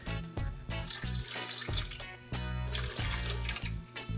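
Water runs from a tap into a blender holding salad dressing ingredients, a steady close splashing stream with short breaks, heard on its own.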